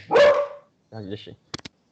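A dog barks loudly a few times at close range: one long bark, a shorter yelping bark, then two quick sharp yips.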